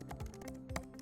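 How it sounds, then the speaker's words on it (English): Keys on a computer keyboard are typed in a quick, even run of soft clicks, close and fairly quiet, with no voice over them. "I'll go ahead and begin by typing"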